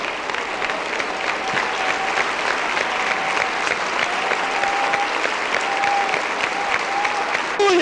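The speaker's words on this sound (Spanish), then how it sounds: "Fuerte ese aplauso." A church congregation claps steadily and loudly throughout, a dense sustained wash of applause from a crowd indoors with a faint voice underneath.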